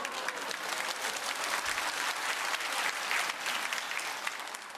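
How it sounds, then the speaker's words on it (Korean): Church congregation clapping together after a hymn, a broad, continuous burst of many hands with scattered louder claps, sustained evenly throughout without any talk. "박수 치니까 이상합니다."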